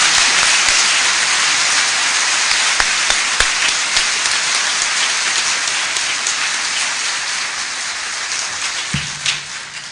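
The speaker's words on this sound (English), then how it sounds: "Let's give her a round of applause." Sustained, dense round of applause from a large banquet audience at a 40th wedding anniversary celebration, steady and loud throughout before thinning out at the very end.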